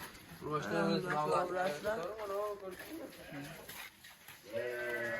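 Several ewes bleat in wavering, drawn-out calls, close by and fairly loud, with people talking over and between them.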